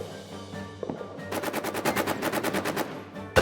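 A machine gun lays down covering fire in the trench warfare video game All Quiet in the Trenches: a long, loud, rapid burst of evenly spaced shots that follows a quieter lead-in.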